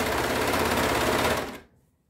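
An overlock sewing machine stitches the crotch seam of jersey trousers, a loud, fast, steady mechanical whirr that runs continuously for about a second and a half before stopping abruptly.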